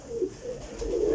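A flock of about 22 flying pigeons kept for sale in Jhelum coos steadily and close by, with soft, overlapping throaty calls rolling on without pause and no talking.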